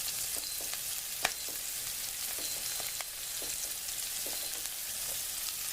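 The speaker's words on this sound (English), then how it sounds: "we're going to saute this" Onions and garlic sizzle steadily in a hot slow cooker, a dense continuous frying hiss with scattered soft stirring clicks, close and fairly loud.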